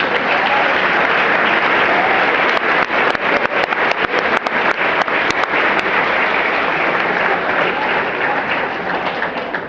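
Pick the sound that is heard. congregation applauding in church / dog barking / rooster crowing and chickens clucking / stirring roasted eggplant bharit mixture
congregation applauding in church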